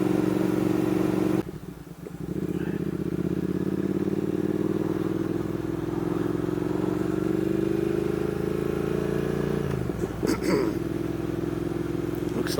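Triumph Thruxton R motorcycle ridden on an open road, with a steady, close engine drone and wind rush throughout, a brief dip in level early, and some clattering noise toward the end.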